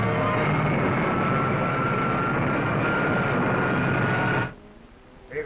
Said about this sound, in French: Avion 3 atteint par une fusée. Nous tombons.